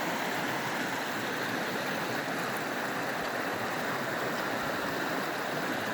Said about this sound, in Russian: Ручей говорливый